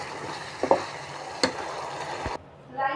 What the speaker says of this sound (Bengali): ঘি দিলাম, মশলা গুঁড়ো দিয়েছি, এখানে নাড়িয়ে নেব।